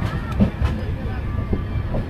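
The Doon Express with new LHB coaches rolls into Gosainganj station, a low steady rumble with soft rhythmic wheel clicks heard from inside the carriage.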